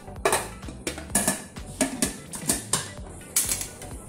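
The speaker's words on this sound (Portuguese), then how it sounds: "Vamos fechar a panela." Several sharp metallic clicks and clanks in an uneven rhythm as a pressure cooker lid is fitted and locked into place, close and clear.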